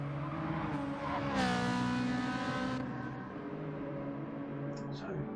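Racing cars, including a Mazda and a Ferrari, scream through a sim race at Interlagos, one engine revving up and fading beneath steady engine drone while a commentator talks over it.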